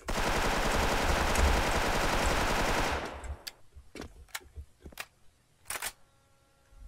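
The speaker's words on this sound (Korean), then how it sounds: "이렇게 쏘면서 가다가 옆으로 한번 뺐다가 다시 뒤로 점프하면서 쏘고" A dense, sustained burst of automatic M4 rifle fire in the online shooter Special Force lasts about three seconds, loud and continuous, then trails off into a few scattered single shots and clicks.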